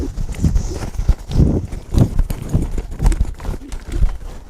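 A cutting horse works a cow, its hooves clip-clopping and scuffing in a steady, close rhythm of quick steps, stops and lunges across loose ground, with no talk over it.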